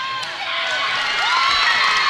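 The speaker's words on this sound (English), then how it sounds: "Got pretty loud in here with those chants of defense" Basketball crowd at a girls' high school game, Tulalip against Grace Academy, roaring and chanting defense in a gym, a loud, steady swell of cheering voices with shrill whoops that builds toward the end.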